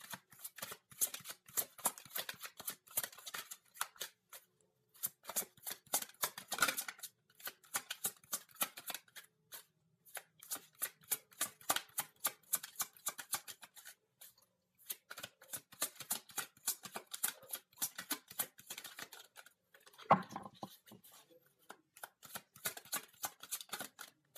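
Tarot cards are shuffled softly and closely in repeated bursts of quick riffling clicks, separated by short pauses, over about twenty-four seconds.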